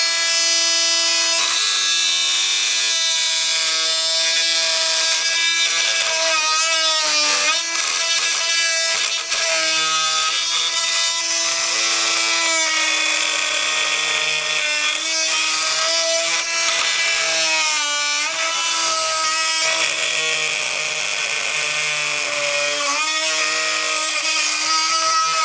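A Milwaukee M12 Fuel oscillating multi tool with a titanium blade on a half-charged battery cuts through wood with nails and screws, a loud continuous high-pitched buzzing whine that shifts in pitch as the blade bites, with no talking.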